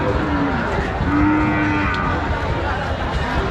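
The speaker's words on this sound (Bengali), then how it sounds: "দুই দাঁতের গরু সেটা দেখাই, সুন্দর একটা গরু দেখেন।" A two-toothed cow at a cattle market lets out a long, drawn-out moo that dominates close by, over a steady bed of crowd noise and distant chatter.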